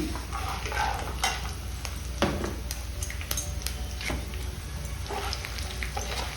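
Tempering with curry leaves frying in oil in a pan, a steady sizzle with frequent clinks and scrapes of a spoon stirring against the metal.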